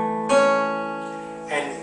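Two guitar chords strummed on strings 4, 3 and 2, each ringing out and sustaining, the second struck about a second after the first, with no talking.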